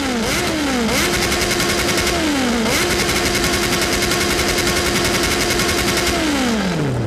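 Honda CB1000 motorcycle engine in a mobile riding game bouncing hard off the rev limiter, a loud, continuous rapid stutter with repeated rising and falling pitch sweeps, heard alone.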